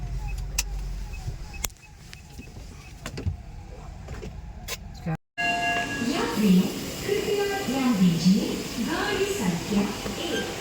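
Low rumbling and clatter of a moving train, with scattered knocks and creaks from the carriage, and people talking over it in the second half.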